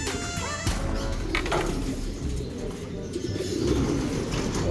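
Low, soft coos from racing pigeons repeat through steady background noise at a pigeon race finish, with a few faint chirps near the start.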